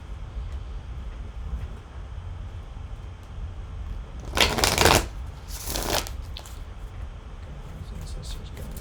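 Tarot cards are shuffled in two quick riffling bursts, each about half a second to a second long, close and crisp. Faint room noise sits underneath.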